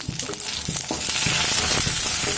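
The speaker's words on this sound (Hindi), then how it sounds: "पोटैटो फ्राई हो गया है।" Potatoes fry in hot oil for dum aloo, making a steady, dense sizzle with soft stirring knocks scattered through it.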